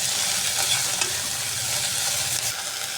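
Curry leaves and mint sauté in hot oil in a pan, a loud continuous close sizzle and crackle with faint stirring, no talk.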